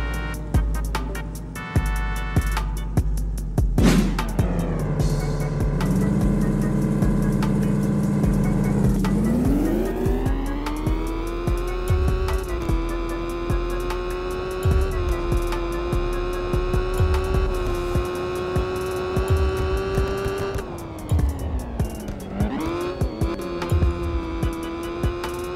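A Honda CBR1000RR-R Fireblade SP superbike in Roblox screams through its gears, revs climbing and dropping at shifts, a steady loud engine whine sustained throughout with brief throttle dips.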